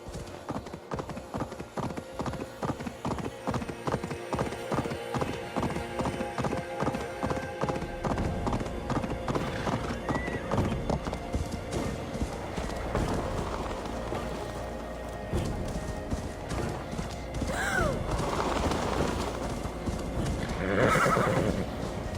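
A horse in the video game Assassin's Creed Valhalla trots with steady, rhythmic clip-clop hoofbeats. It whinnies now and then over soft rain-like ambience, with faint speech in the background.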